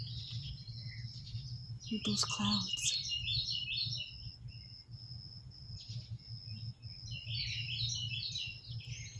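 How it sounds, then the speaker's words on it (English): Birds chirp and tweet in trees on a humid morning, bright twittering calls repeating through the clip over a steady low hum, with a brief spoken remark near the start. "You got the birds all up in the trees."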